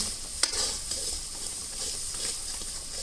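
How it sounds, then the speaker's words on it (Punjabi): Malai kofta mixture stirred in a pan, a soft scraping and gentle sizzle with one sharper knock of the spoon early on, fairly quiet and close. "ਇਹਨੂੰ ਚੰਗੀ ਤਰ੍ਹਾਂ ਸਾਰਿਆਂ ਨੂੰ ਮਿਕਸ ਕਰਾਂਗੇ"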